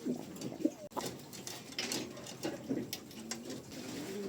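Soft, low coos from a red bar pigeon repeat a few times close by, with faint clicks and shuffling around them, a squab nearby.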